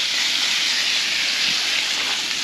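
Steady broadband sizzle from food frying over a camp stove at a wild camp in an Italian vineyard, a continuous bright hiss holding even and close throughout with no talk.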